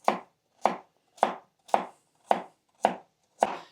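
Knife thinly slicing carrot on a cutting board for lasagna alla bolognese: seven crisp, evenly spaced chops, close and distinct, with no voices.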